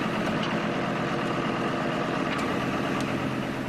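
A tractor engine idles steadily near a steep boat slipway, a continuous low mechanical drone that holds at the same level throughout with no voices.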